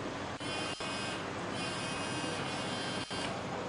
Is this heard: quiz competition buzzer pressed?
yes